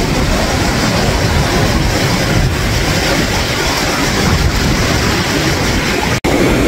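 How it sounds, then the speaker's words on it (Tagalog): Big ocean waves breaking on My An Beach in Da Nang, a loud, continuous roar of surf that holds steady throughout with no talk over it. "Laki ng alon."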